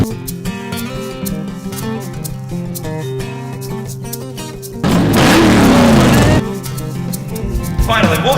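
Engines of classic cars and hot rods gathered at the Gillette Castle rally point idle and rumble, then one bursts into a loud, roaring rev for a couple of seconds before dropping back, with music playing underneath.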